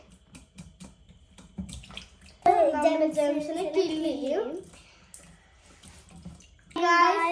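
Water splashes and sloshes as grapes are washed by hand in plain water, while a person talks over it.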